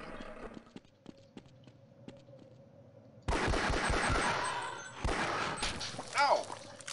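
Close automatic gunfire from a weapon in the PC shooter Half-Life, a dense loud burst breaking in after quieter game ambience, with a brief pause and a second volley.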